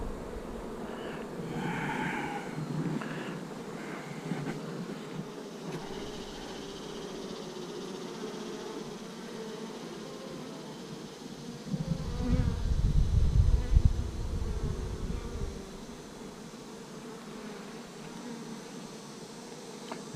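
A steady, close humming drone of many honey bees buzzing around a nucleus hive, swelling louder for a few seconds in the middle before settling back.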